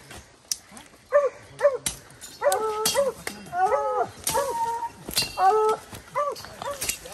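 Several hunting dogs barking and yelping excitedly at a wild boar in quick, overlapping bursts, close by and fairly loud.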